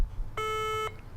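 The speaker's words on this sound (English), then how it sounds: "The buzzer indicates that we have come now to the end of the opening round" A single electronic quiz buzzer sounds clearly at the end of the opening round of a televised high school quiz contest, a steady harmonic tone lasting about half a second before cutting off cleanly.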